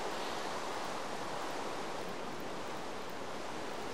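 Heavy rain falling outside a shelter in Minecraft, a dense, even hiss that holds steady throughout, fairly loud and uninterrupted, with no voices.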